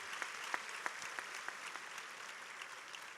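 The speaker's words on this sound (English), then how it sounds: "So another round of applause" At an honors convocation, an audience claps in a soft, fairly distant round of applause, with a few sharper individual claps standing out near the start before it thins out.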